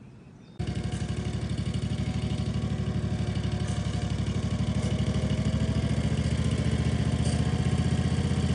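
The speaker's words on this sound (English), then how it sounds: "Do this while your mower is running." A riding lawn mower engine starts up, settles into a steady, loud, rhythmic chugging run and keeps going without change, with no talking.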